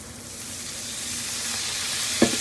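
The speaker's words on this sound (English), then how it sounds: "I'm gonna go ahead and deglaze. Some white wine." White wine is poured into a hot pan of shallots and garlic and sizzles steadily, a close, continuous frying hiss with a brief clink near the end.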